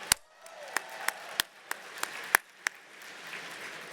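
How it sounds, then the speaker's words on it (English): A few scattered hand claps at a gala event, about eight separate sharp claps spaced irregularly over a quiet room rather than full applause. "give yourselves an enormous round of applause"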